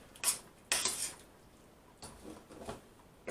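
A spoon scrapes and clinks in a pan while stirring carbonara sauce with duck, chicken and bacon, a few short close strokes separated by quiet pauses.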